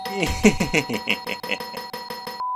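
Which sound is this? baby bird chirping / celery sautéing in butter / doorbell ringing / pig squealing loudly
doorbell ringing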